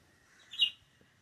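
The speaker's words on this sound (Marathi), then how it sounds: "मस्त पक्ष्यांचा आवाज येता." A single short, bright bird chirp rings out outdoors in a quiet Konkan village, rising briefly above a near-silent background.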